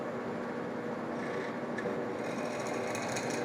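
A drill press runs continuously, a steady loud mechanical whir and grind as it bores through a clamped block for a keychain, with no pauses.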